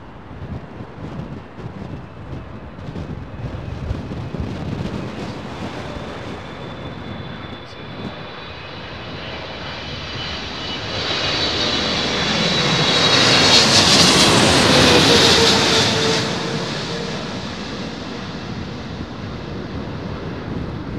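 Aircraft at London Heathrow Airport in high winds, a jet engine roar swelling as the plane passes close and loud, then fading, with gusty wind buffeting the microphone throughout.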